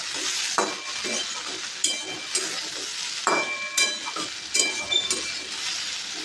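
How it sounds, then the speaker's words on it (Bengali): Eggplant sizzles steadily in a frying pan as something stirs it, with a few sharp utensil clinks against the pan cutting through the continuous hiss. "এবার বেগুন ভাজছি"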